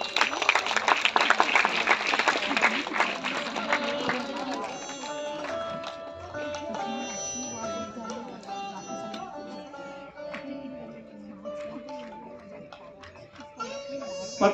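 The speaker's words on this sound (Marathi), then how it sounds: "जोरदार टाळ्या व्हायला पाहिजे" An audience at an award ceremony applauds a journalist receiving an honour. Loud, full clapping opens the moment, then thins out after about four seconds as music with steady tones takes over.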